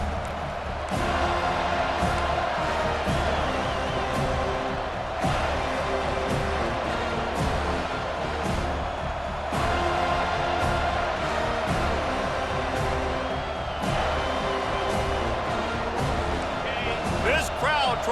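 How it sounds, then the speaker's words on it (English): A stadium crowd roars in EA Sports College Football 25 during a Florida versus Florida State game, a dense sustained cheer with swells, under continuous commentary. "This crowd trying to show them what it's going to be like all day in this house"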